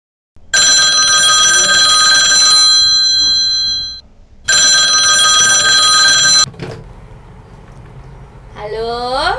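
Home landline telephone ringing loudly indoors, two long electronic ring bursts separated by a pause, then a click and a voice speaking at the end.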